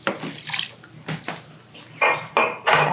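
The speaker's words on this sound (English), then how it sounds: "We're adding 2 cups of white wine." Two cups of white wine poured into a pot of French onion soup, splashing liquid in irregular bursts with clinks of a vessel, close and moderately loud with no talking.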